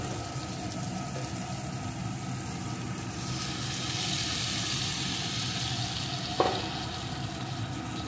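Fried papaya pieces sizzling and being stirred into a pan of spiced potato masala, a steady close frying hiss with a brief sharp clink of a utensil near the end.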